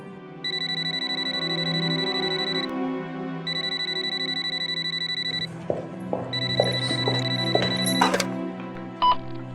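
A telephone rings in a family home, its electronic trilling ring repeating in two long bursts with a short gap, followed by softer clicks and clatter after the ringing stops.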